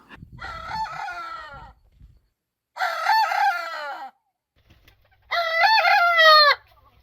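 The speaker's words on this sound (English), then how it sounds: "He had his first crow." An Ayam Cemani rooster crows three times in a row, each call a loud, close, drawn-out cock-a-doodle-doo separated by short pauses of near silence, the last the strongest.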